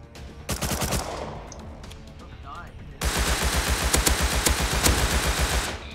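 Bursts of AK rifle fire in the survival game Rust: scattered rapid shots early, then a dense sustained volley of automatic fire, loud and close, with faint voices underneath.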